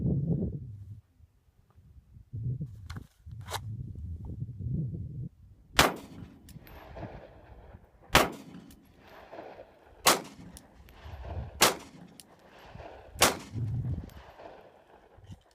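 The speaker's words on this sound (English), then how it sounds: "Number 5, draw 5 shots with strong hand only." A Glock 19 Gen4 pistol fired with the strong hand only on a shooting range, about five sharp, loud shots spaced roughly two seconds apart, following quieter handling and rustling noises.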